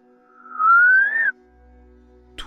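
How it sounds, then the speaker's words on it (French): A single loud, piercing two-finger whistle that slides upward in pitch for under a second, then cuts off, followed by quiet with a soft click. "ce sifflement aigu à deux doigts qui perce l'oreille"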